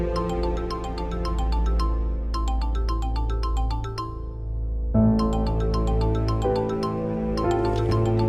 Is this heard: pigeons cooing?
no